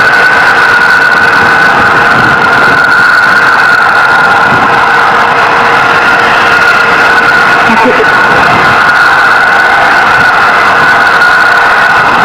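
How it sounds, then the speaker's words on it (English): The HTV-9 launch, with four solid rocket boosters and two liquid fuel engines, is about a minute and a half into flight and pushing toward preliminary orbit; a loud, steady, unbroken roar fills the whole stretch. "Four solid rocket boosters, 2 liquid fuel engines propelling the HTV-9 towards its preliminary orbit"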